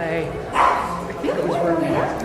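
A dog out on a street walk lets out a short bark and a few yips, moderately close. A person talks over it, and the voice partly masks the dog's sounds.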